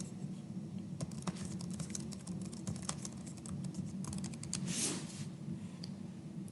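Rapid typing on a computer keyboard, close and clear, with irregular bursts of key clicks and a brief louder flurry near the end, no talking.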